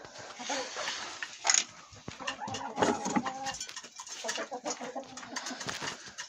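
Backyard hens cluck in a wire mesh cage where corn has just been put out for them, giving short, close, irregular clucks and calls with soft rustling and a faint voice in the background.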